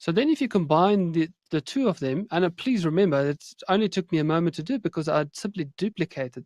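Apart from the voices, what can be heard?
No distinct noise like a dog, phone or traffic.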